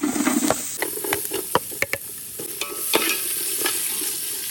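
Whole cinnamon, cloves, cardamom and chopped onion sizzle and fry in a pan, with bursts of hissing and sharp clinks of a spoon stirring, close and fairly loud.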